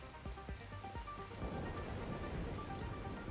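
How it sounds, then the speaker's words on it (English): Steady rain falling in The Division 2 video game, a dense hiss on surfaces that swells louder after a few soft thumps and continues throughout, with no talking. "Foggy and rainy."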